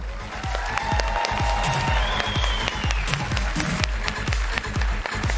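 Audience applause at the TwitchCon 2019 cosplay contest, steady dense clapping from a large crowd with some cheering, loud and continuous throughout.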